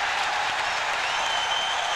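Ice hockey crowd at the 1991 USA vs Finland game applauding a goalie's save: dense, steady clapping and cheering from a large arena audience, sustained and even throughout.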